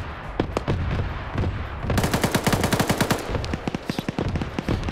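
Rapid automatic gunfire in a large-scale Escape from Tarkov–themed PvP battle, Russia vs Britain, with sustained bursts of evenly spaced shots that intensify midway, loud and close, followed by more scattered single shots.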